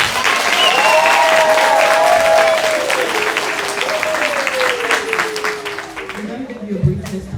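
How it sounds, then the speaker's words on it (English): Graduates and guests at an academy graduation ceremony applaud in a full, continuous round of clapping, with cheering and whoops on top, tapering off at the end as a voice begins. "Give yourselves a round of applause."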